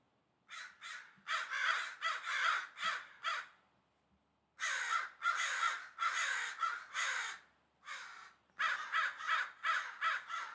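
Crows caw in repeated bursts from a large flock, loud and fairly near, in clusters of rapid calls separated by brief pauses, with no voices.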